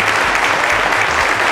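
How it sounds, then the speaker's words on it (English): Applause for the first runner-up at a televised quiz show season finale, a steady dense clapping wash filling the short stretch, with a low musical bed underneath. "A round of applause to Oluwanifise"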